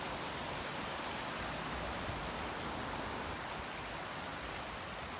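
A huge waterfall swollen by recent rain, heard from above as a constant broadband rushing roar that stays level throughout, moderately quiet with no voices.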